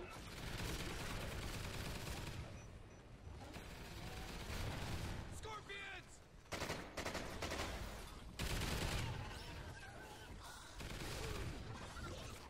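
Sentry gun in an alien-onslaught extinction mode of a shooter video game, firing in long dense bursts that run almost continuously, loud and close, with brief gaps and crashing impacts mixed in.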